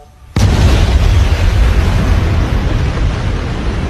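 A sudden loud anime explosion bursts in after a brief quiet moment, then sustains as a dense roaring rumble that fills the rest of the scene without fading much.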